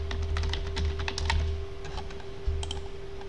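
Keys clatter on a computer keyboard as an IP address is entered, in quick irregular bursts of clicks with a short pause, close-up over a faint steady electrical hum.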